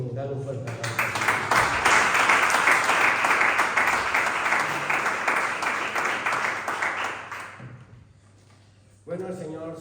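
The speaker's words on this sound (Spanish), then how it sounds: "Dale un fuerte aplauso." Loud, sustained applause from a church congregation fills most of the clip, fading toward the end before a voice resumes.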